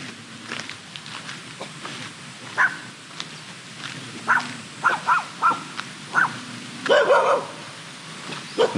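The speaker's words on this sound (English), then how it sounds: "Oh, there's a pack of dogs." A pack of dogs barks on a hiking trail to Big Buddha, sharp barks and yips coming in irregular bursts, some close and loud, with a few footsteps underneath.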